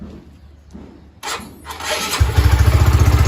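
A Honda Sonic 125 motorcycle with a new battery is electric-started after a quiet lead-in, cranking briefly and then catching into a loud, steady idle with a rapid pulsing beat, close by and without talk.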